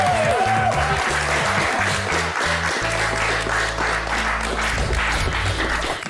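An audience applauds for a boy after a fortune-teller prank on a children's TV show, steady clapping layered over a loud musical sting with heavy bass, lasting a few seconds.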